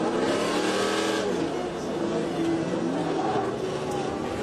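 Stadium Super Trucks racing on a track, engines roaring continuously with rising and falling pitch as trucks accelerate, loud and steady throughout.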